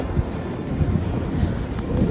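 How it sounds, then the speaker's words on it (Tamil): Cold wind blows steadily at the seaside, buffeting the microphone with a continuous low rumble and hiss that carries no voices. "குளிர் காத்து அடிக்குதா காத்து அடிக்குது"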